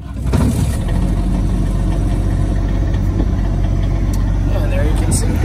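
The generator on a 1984 Bluebird Wanderlodge bus starts with a short burst and then settles into a steady mid-pitched idle hum, close by, while someone talks over it.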